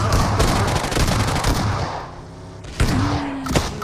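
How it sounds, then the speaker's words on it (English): Rapid gunfire from an esports first-person shooter match, dense bursts of shots in the first second and a half, then quieter, with a few sharp reports later alongside game effects. "We do have that cover fire from Nexus from down below"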